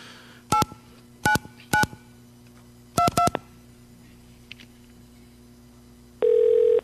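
A telephone keypad dials a phone number in DTMF tones: three separate beeps, then a quick burst of three more, and finally a longer steady tone at the end, all clear over a faint hum.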